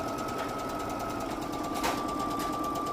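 A domestic sewing machine runs continuously at a 2.5 stitch length through slinky, silky fabric, giving a steady close mechanical whir with a faint rhythmic pulse and a thin high tone over it.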